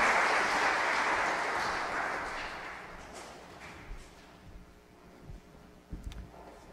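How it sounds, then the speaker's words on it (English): Congregation applause for confirmation candidates during a Mass in a church, a dense roar of clapping that starts loud and gradually fades away, leaving a few thumps and scattered taps in a reverberant space. "join me in showing our support and our encouragement of these young people through our applause"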